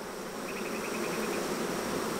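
Honey bees fan their wings at the entrance of a homemade hive, producing a dense, continuous close-up drone with a brief higher whine from a passing bee; no talking.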